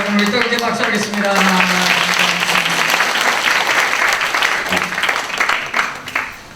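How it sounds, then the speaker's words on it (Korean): A church congregation breaks into warm, sustained applause, loud and dense throughout, with a voice speaking over the start and the clapping thinning out toward the end. "다시 한번 우리 뜨겁게 박수하겠습니다"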